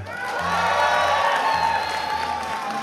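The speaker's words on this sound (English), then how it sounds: "If you guys like Gnomish Inventor, applaud now." A BlizzCon 2014 Hearthstone audience claps and cheers to vote for the card Gnomish Inventor, swelling applause with whoops and shouts from the crowd, loud and sustained for nearly three seconds.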